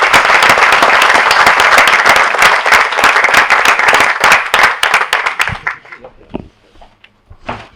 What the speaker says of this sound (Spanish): Un aplauso muy fuerte para él,